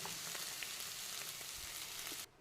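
Fish sizzles steadily in a hot pan with curry leaves and garlic, a dense continuous crackle with small pops throughout, close and fairly loud, cutting off abruptly at the end.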